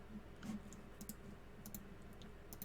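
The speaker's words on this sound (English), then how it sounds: "I'm hearing somebody's keyboard." Someone's computer keyboard clicks faintly in the background, with scattered, irregular keystrokes tapping quietly under a low steady hum.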